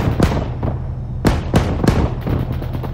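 Tank turret gun fire in the military game Arma 3, several heavy booming shots landing in quick succession with sharp loud cracks over a constant low engine rumble, no voices.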